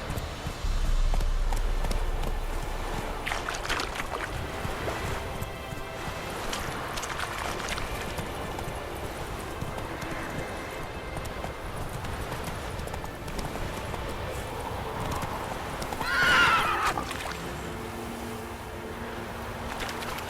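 Roach the horse gallops steadily in The Witcher 3: Wild Hunt, with a rhythmic clip-clop of hooves running on for about twenty seconds over outdoor ambience, with faint bird calls in the background.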